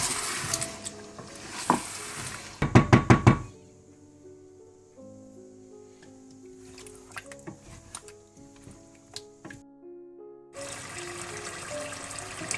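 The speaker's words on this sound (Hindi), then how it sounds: "दही डालने के बाद आपने इसे अच्छी तरह से भूनना है" Achari murgh, chicken fried with yogurt in a pan, sizzles steadily at the start and again near the end, with a few stirring clatters. Soft music fills the quieter middle stretch.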